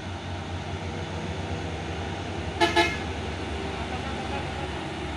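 An orange 6x4 HD truck sounds its telolet horn in a short, tuneful toot of under a second, fairly faint over a steady background of engine and road hum.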